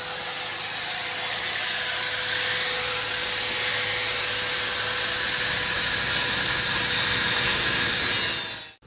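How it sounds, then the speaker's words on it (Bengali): A rivet is cut off the number plate of a Hunter 350 motorcycle, giving a loud, continuous high-pitched whine that holds steady for about nine seconds before stopping abruptly. "রিপিটটা কাটতেছে"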